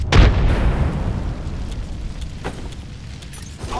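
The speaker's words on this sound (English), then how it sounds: "Throwing thermite grenade. Thermite grenade sent." Thermite grenade bursting in Apex Legends, a loud sharp blast at the start followed by a sustained crackling, fiery roar that fades slowly, with a couple of faint pops later and no talking.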